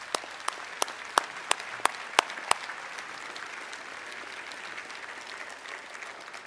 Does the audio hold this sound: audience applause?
yes